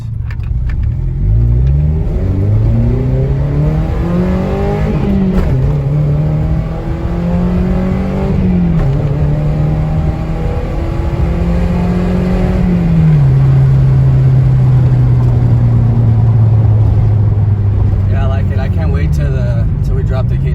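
A Toyota MR2 engine drones steadily inside the moving car, its pitch rising and dropping through several gear shifts over about twenty seconds. Someone talks over the engine.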